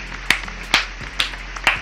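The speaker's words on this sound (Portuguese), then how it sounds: "uma salva de palmas" Four sharp, evenly spaced hand claps, close and fairly loud, with no talk between them.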